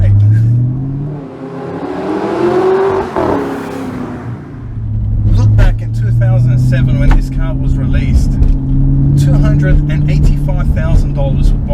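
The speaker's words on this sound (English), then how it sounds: "You've got a V8 behind you, as you can hear there, downshift, that sounds great." An Audi R8 with a V8 engine and sports exhaust, a model first released in 2007, revs up and drops back as it downshifts, then holds a steady loud engine drone while someone talks over it.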